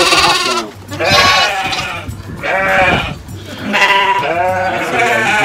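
Sheep in a farm pen bleat loudly and repeatedly in long wavering cries that overlap one another.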